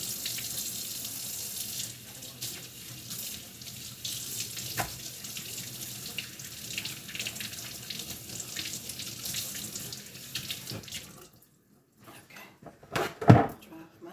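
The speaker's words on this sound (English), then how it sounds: "Wash off my knife." Running tap water splashes steadily over a kitchen knife at a sink for about eleven seconds, then cuts off, followed by a few brief handling clunks.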